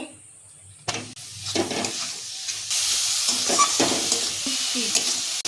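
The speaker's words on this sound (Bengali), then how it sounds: "নারকেলটা আমি ভালো করে লাল লাল করে ভেজে নেব" Coconut fries in a pan with sugar, cardamom and a pinch of salt: a sudden knock opens the clip, then a rising sizzle with intermittent stirring scrapes that settles into a steady loud hiss.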